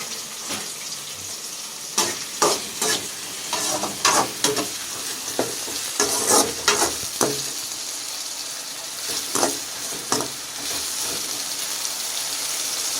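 Tomato with salt stirred and mashed in a frying pan for egg idli, a steady close sizzle broken by repeated rhythmic scraping and squishing strokes of the spoon against the pan.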